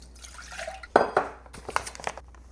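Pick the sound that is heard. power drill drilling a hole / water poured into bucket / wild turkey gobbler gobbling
water poured into bucket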